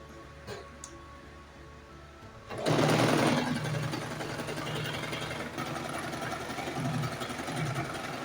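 A sewing machine stitches turban fabric, starting after a quiet pause and then running steadily and loudly without break, with no talking.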